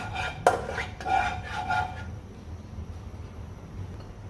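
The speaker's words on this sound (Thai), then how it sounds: "เอาตะหลิวเขี่ยน้ำมันให้ทั่วกระทะนะครับ" Several metal scrapes and light clanks of a spatula spreading oil across a wok in quick succession, then quiet background hum.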